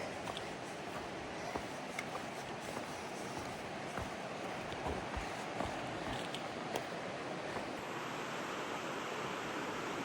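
Steady rushing water of a river along the Foothills Trail, a broad even wash of flow heard from nearby with no voices over it.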